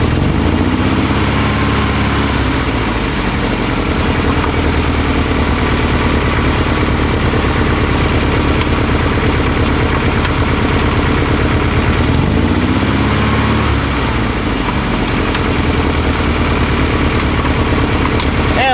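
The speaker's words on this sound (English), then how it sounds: "typically I used to just kind of wedge a wrench in there just to bring the RPMs up" Volkswagen Type 3 engine with dual carburetors runs above idle, a steady loud mechanical drone with rapid firing pulses throughout, rising briefly a couple of times.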